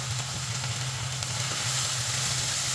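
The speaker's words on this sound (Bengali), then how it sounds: "তো পেঁয়াজগুলোকে ভালো করে ভেজে নেবো, হালকা বাদামি কালার হলে আমি বাটা মশলাটা দিয়ে দেবো।" Onions frying in a pan for a puti fish and coconut dish, a steady dense sizzle that holds loud and even throughout, close by with no voices.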